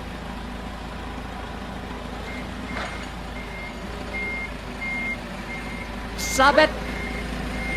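Reversing beeps sound as a forklift backs up in King's Field 4, a short burst of beeping late over a steady engine hum, with a voice speaking briefly.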